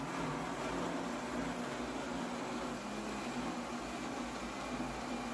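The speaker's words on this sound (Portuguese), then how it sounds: "E vai bater aqui no liquidificador." A kitchen blender whirs steadily while blending thawed frozen corn with a little water, a constant loud motor whine with no breaks.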